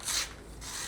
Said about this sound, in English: this is what a rasp is for